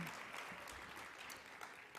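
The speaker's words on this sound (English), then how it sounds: "how about one more round of applause for Beck and the New York Farm Girls" Conference audience at a national dairy women's gathering giving another round of applause for a performing group, a faint, distant, continuous spatter of clapping.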